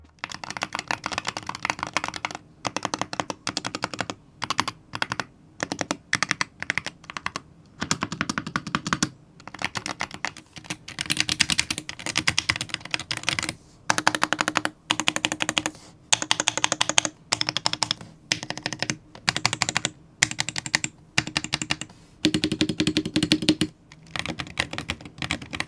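Typing on a keyboard fitted with KeyTok Nova Hall Effect switches gives close, crisp, clustered keystrokes in uneven bursts with short pauses, and no voices.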